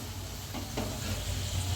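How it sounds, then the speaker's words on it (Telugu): Ivy gourd (dondakaya) pakoda frying in hot oil, a steady close sizzle with a brief stir or clatter partway through, no voices. "బాగా అలా ఫ్రై చేసుకోవాలండి."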